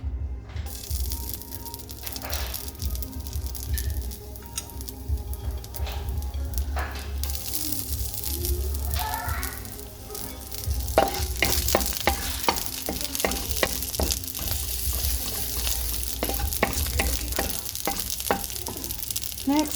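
Garlic sizzles steadily in hot oil in a pan, with a continuous crackle broken by sharp scraping and stirring clicks, growing busier and more clattery in the second half.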